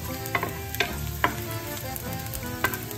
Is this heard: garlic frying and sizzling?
yes